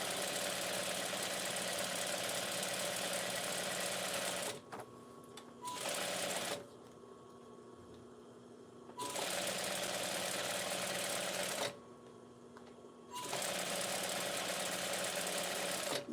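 A sewing machine stitches a baby blanket in long, fast, continuous runs of buzzing hum, stopping twice for short quiet gaps before starting up again.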